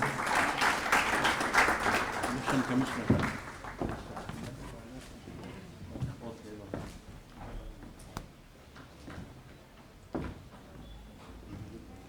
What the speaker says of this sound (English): Please, big round of applause to all of them